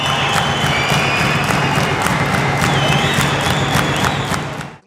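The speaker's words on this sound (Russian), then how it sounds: "И победитель, и побежденный удостаиваются оваций." Fight fans at a combat sports event in Ingushetia cheer and applaud loudly and continuously, a dense roaring crowd with whistles that fades out at the end.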